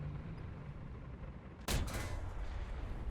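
Tank gunfire in the War Thunder video game, a single sharp loud cannon blast partway through, followed by a rumbling decay over steady engine background.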